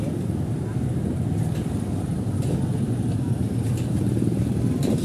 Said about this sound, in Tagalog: Sinsya na ko yung maingay dito sa mga sasakyan.